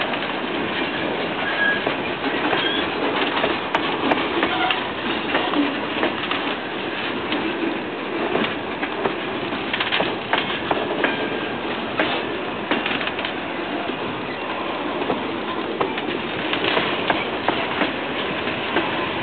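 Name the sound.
two Norfolk Southern freight trains passing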